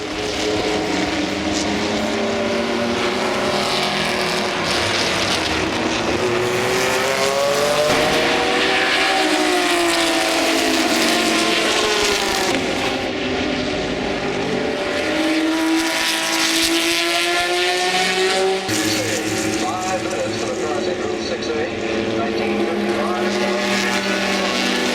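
BMW M1 race cars run laps around a track at Monterey Car Week, engines loud and continuous with rising and falling pitch as cars pass, several overlapping at a distance.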